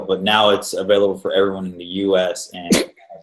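A single sharp sneeze bursts out near the end of a stretch of conversational talk, brief and close, cutting across the voices.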